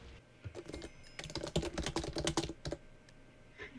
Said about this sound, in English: Oh my god, you're typing though. That typing though.